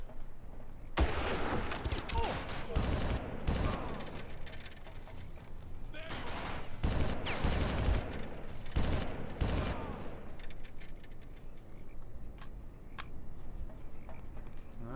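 Video game gunfire in Far Cry, with bursts and single shots in clustered volleys across the clip, loud and near, over a steady game background.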